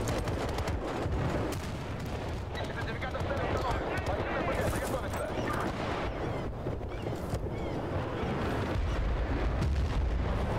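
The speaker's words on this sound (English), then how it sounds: "Like the little delayed explosion on the boat." A vehicle explodes in the video game Battlefield: Bad Company 2, heard as dense, continuous rumbling blasts and crackling gunfire throughout, with a thick low-end roar that never lets up.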